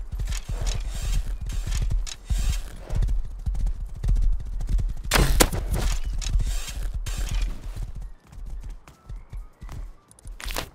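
Horse hooves clip-clopping in the survival video game Rust, a steady, busy run of close hoofbeats with occasional creaks continuing throughout, thinning out toward the end.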